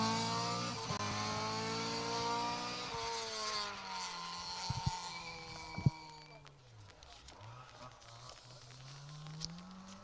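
A rally car drives past on a Nicky Grist Stages forest stage, engine rising and falling in pitch as it approaches and recedes, with sharp gear-change pops midway and a commentator's voice faintly underneath.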